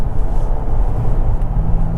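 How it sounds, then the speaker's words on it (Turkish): A DS 9 sedan's engine in sport mode gives a steady, close, low rumble that holds evenly throughout, with no one talking over it. "Şöyle kendine geliyor araba motor sesini duyuyorsun."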